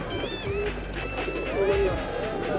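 Pigeons on an open rooftop loft coo in two low, soft phrases, with thin high whistling tones and a murmur of voices in the background.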